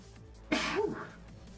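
A single sharp sneeze bursts out close to the microphone against a quiet room, followed by a short trailing breath.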